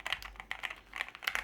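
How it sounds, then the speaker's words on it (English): A NuPhy mechanical computer keyboard is typed on nearby, its clacky keypresses falling in short uneven bursts over a faint low hum. "I didn't think I was gonna geek out on the sound of a keyboard."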